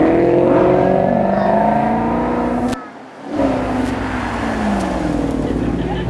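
A Maserati Gran Cabrio Sport with a 4.7-litre V8 pulls onto a track at the Beaulieu Supercar Weekend, its engine revving and rising in pitch, dropping off briefly mid-way, then climbing again in a loud, close run.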